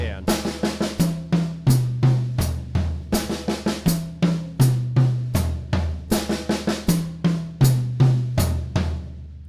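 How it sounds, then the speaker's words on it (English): On a drum kit, a fill moves from the snare drum down across the high, middle and floor toms, repeated within a steady groove of crisp, close, loud hits and cymbals in a regular rhythm. "Beat 1 on the snare drum, beat 2 on the high tom, beat 3 on the middle tom, beat 4 on the floor tom."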